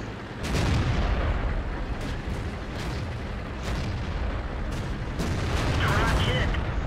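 A tank cannon fires in World of Tanks, with a Soviet KV-1 heavy tank in battle, sending several sharp, booming shots at irregular intervals over a constant engine rumble while someone narrates.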